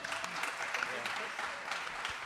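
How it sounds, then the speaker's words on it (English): Audience applause for a musical guest at a comedy show, a moderate, steady patter of many hands with a few sharper claps, and voices audible through it. "can we have another round of applause for our incredible musical guest tonight?"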